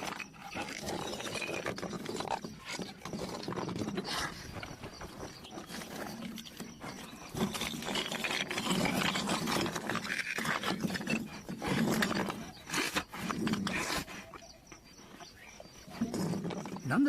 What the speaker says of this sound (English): creating a useful gap through which to suck up insects, like a high-powered vacuum cleaner. It's noisy